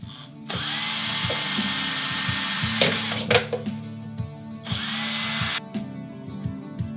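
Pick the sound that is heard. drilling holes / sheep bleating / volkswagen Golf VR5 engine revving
drilling holes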